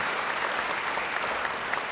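Steady applause from a church congregation fills the room, dense and even throughout with no pauses.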